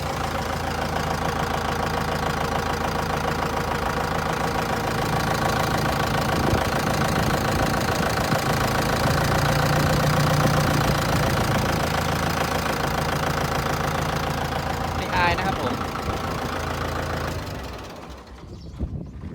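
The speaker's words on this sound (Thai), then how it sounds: "เดี๋ยวนี้ติดเครื่องดูก็ได้ครับไม่อายนะครับ" A Kubota M6040SU tractor engine, a 2010 model, idles steadily and close by for most of the stretch with a knocking diesel rhythm, then cuts off near the end.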